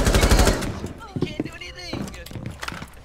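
A loud burst of rapid gunfire from the Rainbow Six Siege video game opens, then a player's voice talks excitedly over quieter in-game shots and movement.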